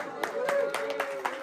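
Sparse, sharp claps from an audience break out as a few distinct hits, spaced unevenly under a voice that keeps talking.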